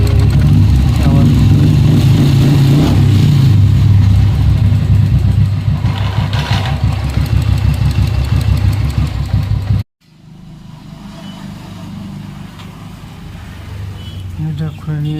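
Royal Enfield Bullet 350 running with a faulty one-way starter clutch roller: a loud, steady, rhythmic thumping engine for about ten seconds, then a sudden cut to a quieter rumble, with someone talking over it.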